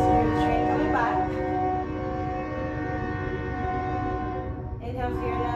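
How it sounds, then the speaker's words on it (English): A train passes on a track right beside a home, with a sustained rumble and a loud horn blast at the start that fades and then returns faintly near the end. "I live next to a train track in case you hear the train coming by."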